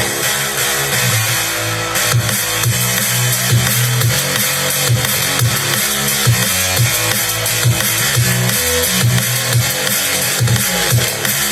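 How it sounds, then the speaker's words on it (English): Music plays on a TRONICA Firefly 40W 5.1 Bluetooth home theater system with the bass turned on, with a strong rhythmic low end under steady, loud full-range music throughout. "Now check out the bass."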